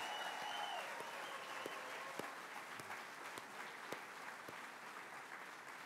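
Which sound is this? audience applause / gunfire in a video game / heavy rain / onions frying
audience applause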